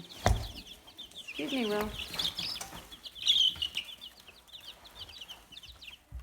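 High, thin peeping from a group of young chicks, scattered and continuous, with a brief spoken phrase and some handling noises nearby.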